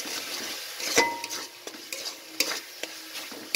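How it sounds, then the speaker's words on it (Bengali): Turmeric, chilli powder and other ground spices fry in a pan while a utensil stirs and scrapes, giving soft sizzling under irregular clinks and taps against the metal. "মশলাটাকে কষে নিচ্ছি।"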